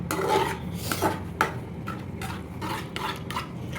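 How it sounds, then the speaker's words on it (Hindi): A spoon stirs yogurt masala in a pan over a low flame while cooking dhaba-style bhindi, giving soft repeated scraping and rubbing strokes with a few sharper clicks against the pan, close and quiet. "और लो फ्लेम पर हम इसको लगातार चलाते रहेंगे।"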